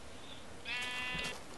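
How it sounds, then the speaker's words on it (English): Minecraft cow mooing or moaning during survival gameplay, a single faint, drawn-out low call with a harmonic tone lasting under a second, set against quiet game ambience. "All I hear is cows fucking moaning."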